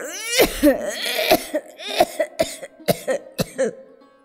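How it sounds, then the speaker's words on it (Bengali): A man coughs heavily in a rapid series of harsh, choking bursts, close and loud, with no talk over it. "কথাটা শেষ হবার আগেই তার বেজায় কাশির বেগ হলো। কাশতে কাশতে দম আটকে যায় আর কি।"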